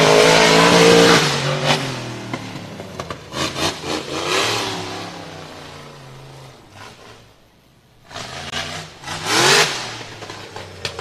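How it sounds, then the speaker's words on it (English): Supercharged race vehicle engine revving hard on an off-road course, rising and falling in repeated loud bursts that fade briefly and then return up close. "with that supercharged engine down there."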